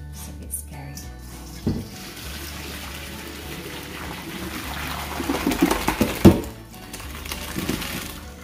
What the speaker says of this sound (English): Okay, let's drain our pasta.